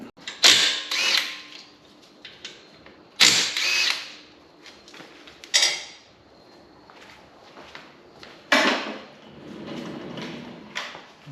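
Lug wrench or ratchet work on the 14 mm brake caliper bolts of a Hyundai Tucson, heard as several separate bursts of metallic clicking and scraping with quiet pauses between them.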